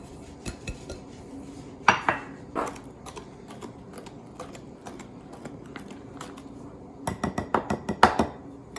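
Metal utensil clinking and scraping against a bowl while brownie batter is stirred, with sharp clustered clinks near the start and a rapid run of clatter toward the end over a soft background.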